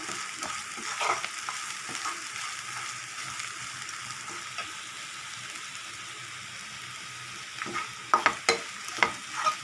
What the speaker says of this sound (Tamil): நல்லா வதங்கட்டுங்க. இது நல்லா வந்துட்டு தேங்காய் நல்லா இது ஆனோன்னா வாசனை வருங்க.